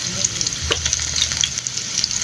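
Food fries in a home kitchen pan with a steady, close sizzle and crackle, broken by small pops and the occasional stir, with no talk.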